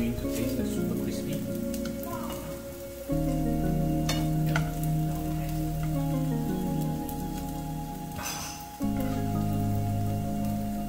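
Luncheon meat slices pan frying in oil until golden brown, a steady crackling sizzle running throughout, with occasional pops and a faint underlying hum.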